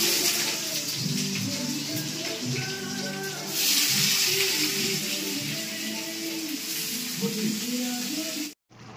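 Chicken with potatoes and spices frying in a pan, a steady sizzle with clatter and stirring, while people talk over it.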